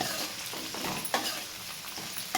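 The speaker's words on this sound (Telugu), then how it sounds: "పచ్చిమిర్చి కొంచెం లైట్గా వేగిన తర్వాత దొండకాయలు వేసుకోండి" Ivy gourd and green chillies fry in a pan with a soft, steady sizzle, broken by the scrape and clatter of stirring. The sound is quiet and close.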